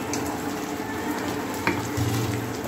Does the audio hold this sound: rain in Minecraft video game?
no